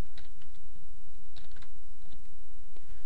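Irregular bursts of keystrokes on a computer keyboard, close and fairly crisp, with short pauses between runs of taps over a steady low background hum.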